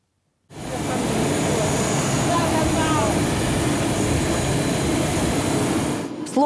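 Aircraft at an airport after arrival, a loud, continuous roar of engine noise that starts abruptly and holds steady, with faint talk underneath.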